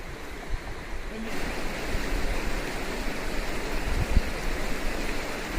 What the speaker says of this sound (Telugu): ఇది సెల్మలా నది.